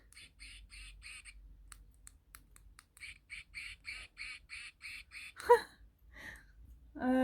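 A duck quacks in a rapid series of short, regularly spaced calls that pause briefly and resume, heard fairly close against a quiet background.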